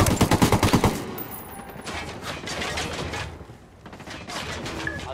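Gunfire from a sniper engagement in the video game Ghost Recon Wildlands: a loud rapid burst of shots for about a second, followed by a sustained rumbling, crackling wash of combat noise.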